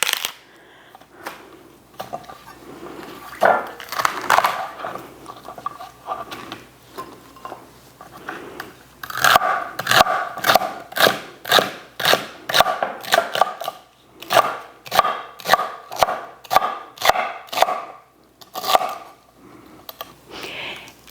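Celery being diced with a knife on a cutting board for corn relish, heard as a steady run of crisp, rhythmic chops that quicken in the second half, close and clear with no talking.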